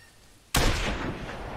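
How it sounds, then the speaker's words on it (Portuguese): A 7.62 caliber rifle fires a single loud, sharp shot in the hunting video game TheHunter, breaking a quiet background and trailing off in a long, sustained echo. "Vou ter que dar outro tiro."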